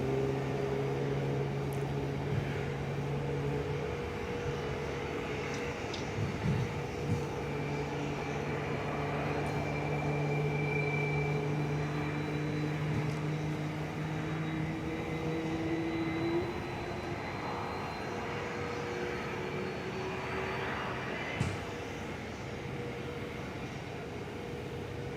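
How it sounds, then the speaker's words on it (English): At Perth airport an Airbus A330 freighter lines up and departs. The engines give a sustained roar with shifting tonal whines that rise and fall as the thrust builds. The sound is continuous and fairly close, and no one speaks. "Now lining up is that A330 freighter,"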